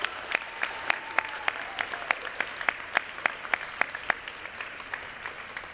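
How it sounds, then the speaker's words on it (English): Faint, rhythmic clapping in an even beat, like a roomful of people at a school committee meeting applauding at a distance, continuing steadily throughout. "Another round of applause for the Science Fair."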